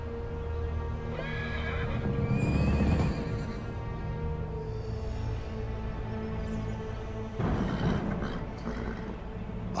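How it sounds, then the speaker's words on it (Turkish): Horses whinny repeatedly over a steady clip-clop of hooves in a medieval-style drama scene, loud and close throughout, with a surge of neighing near the start and again toward the end. "Atlar!"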